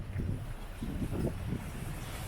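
A sailboat under double-reefed main moving at six to seven knots in 18 to 20 knots of wind off the Bahamas, with steady wind rush and low buffeting across the microphone, continuous and fairly quiet.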